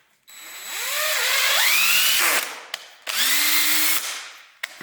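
A power drill spins up loudly during rust removal work on a 6.0L LQ4 engine, its whine climbing in pitch, cutting off, then running again in a second burst, close and without talk.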